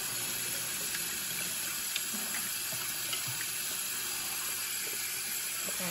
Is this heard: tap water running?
yes